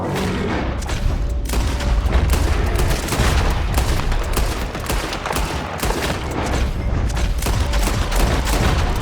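Dense gunfire in the Red Dead Redemption 2 video game, rapid overlapping shots and booms crackling loudly and continuously in a chaotic fusillade.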